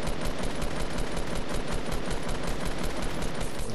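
Fortnite gunfire sprays up at a sky base in a fast, continuous automatic stream. The shots are loud and close, with no pause for nearly four seconds.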